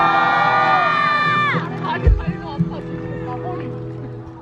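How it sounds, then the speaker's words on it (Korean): A festival crowd at a university concert at Daelim University cheers and applauds as a sung note fades out, with a dense, fairly loud wash of voices and clapping in the second half. "마지막으로 다시 한 번만 박수를 주시면 너무 감사하겠습니다"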